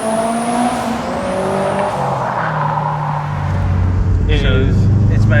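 Turbocharged Honda S2000 making 425 horsepower at 15 psi through a full 3-inch exhaust and turbo manifold, its engine droning steadily and climbing in pitch as it revs, fairly loud and close, with a voice talking over it.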